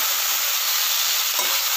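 Cauliflower curry (gobhi sabzi) sizzles and fries on high heat while being stirred, a continuous loud hiss with faint scraping underneath.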